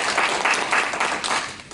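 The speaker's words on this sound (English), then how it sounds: "Round of applause." Audience applause following an Aikido teaching lecture, a brief dense burst of many hands clapping together, steady and fairly close throughout.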